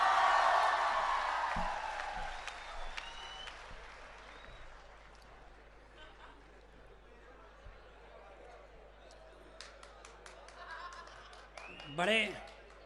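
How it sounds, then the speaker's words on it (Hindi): An audience at a Hindi comic poetry gathering bursts into loud clapping that fades over several seconds, while someone talks over it and scattered claps and voices linger. "हाँ, जोर से बजाओ तालियां।"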